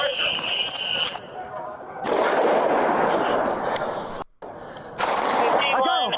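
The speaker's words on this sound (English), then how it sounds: "It's a big ass rifle fight." Rifle gunfire in a video game shootout, bursts of loud close shots breaking in and out over several seconds, with voices talking over the fighting.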